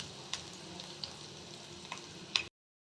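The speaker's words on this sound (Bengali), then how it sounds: "এটা একটু ভেজে নেব।" Vegetables frying in a pan while paneer masala is prepared, a soft steady sizzle close by with a few light clinks of a stirring utensil, no talk, cutting off abruptly near the end.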